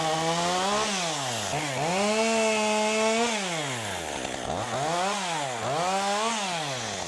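A worn gas chainsaw with a broken chain brake cuts through storm-damaged, partially uprooted trees, its engine steady and loud as the pitch rises and falls repeatedly with the throttle.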